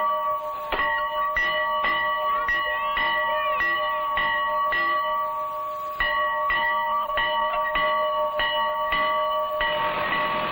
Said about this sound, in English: Come on, and they'll let you ring the bell to call him.